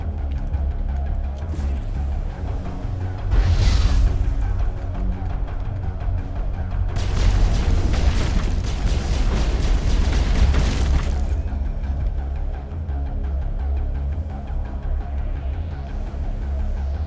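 Grenades go off in the sci-fi game Mass Effect, with a short burst early, then a long, loud roaring blast lasting several seconds over a steady low drone, fading into quieter background hum.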